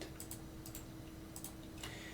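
Keys tapped on a computer keyboard while entering commands in a Linux Ubuntu terminal, a few sparse, quiet clicks in small clusters over a steady low hum.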